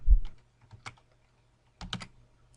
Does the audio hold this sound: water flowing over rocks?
no